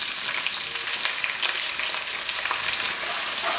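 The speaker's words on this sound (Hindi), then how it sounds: "अब हम एक बाउल लंबे कटे प्याज डालेंगे" Long sliced onions frying in a pan with dried red chillies, a bright steady sizzle with crackles, close and continuous, no voices.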